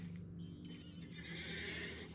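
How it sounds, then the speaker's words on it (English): A grey horse in Lord of the Rings Online whinnies loudly and close, a single drawn-out neigh with faint hoof clip-clop over steady game ambience. "A grey horse this time."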